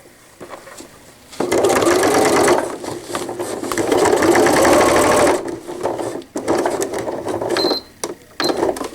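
A sewing machine runs in close, loud bursts while stitching a cloth diaper cover, first a long steady whirring run, then shorter stop-start spurts with brief pauses.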